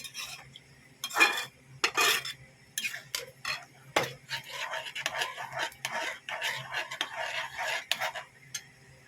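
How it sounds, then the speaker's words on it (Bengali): A spoon stirs yogurt and sugar in a cooking pot over a low flame. The scraping and clinking against the pot run steadily, with a few louder knocks. "দিয়ে দেবো চিনি, দিয়ে নেড়ে চেড়ে নিচ্ছি।"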